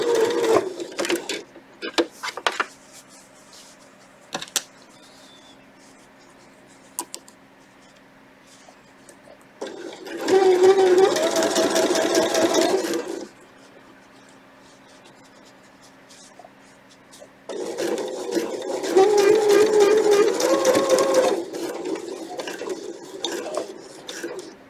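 A sewing machine stitches a recessed zipper placket in two sustained whirring runs, separated by quieter handling noises and small clicks, with the machine close and fairly loud.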